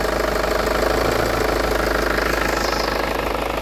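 A Kia Carnival diesel engine idles close by with a steady, loud, rhythmic clatter and low throb that stays even throughout, no voices over it.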